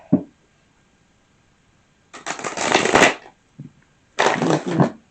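Tarot cards being shuffled by hand, two brisk riffling bursts separated by a short pause, crisp and close with a faint tap in between.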